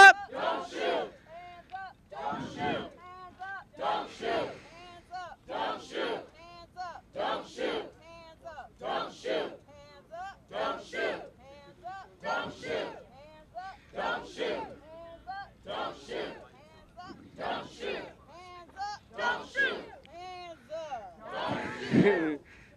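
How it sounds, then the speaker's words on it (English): A fired-up crowd at a Ferguson protest rally in front of the White House chants in loud, rhythmic unison, with regular shouted bursts about once a second throughout. "This crowd is fired up."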